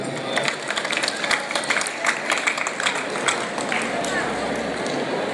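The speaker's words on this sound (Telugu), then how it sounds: "చప్పట్లకు గట్టిగా కొడితే మీరు ఈ సంబరాలను చాలా బాగా చేసుకున్నట్లు లెక్క" Audience applause and crowd noise at a Bathukamma festival celebration in Melbourne, Australia, with dense steady clapping filling the whole stretch under a loud voice talking over it.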